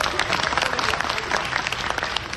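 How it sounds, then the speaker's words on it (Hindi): Crowd at a commemorative rally marking the 300th birth anniversary of Ahilyabai Holkar claps steadily, a continuous wash of applause from many hands with faint voices mixed in. "ज्यादा से ज्यादा तालियां बजाएं।"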